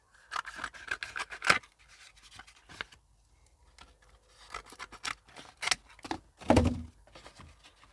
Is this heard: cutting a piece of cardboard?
yes